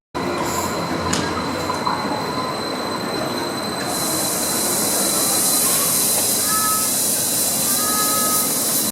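Trains rumble and hiss inside Oslo Central Station, a constant loud roar of rail traffic with faint wheel squeals rising now and then through the busy hall.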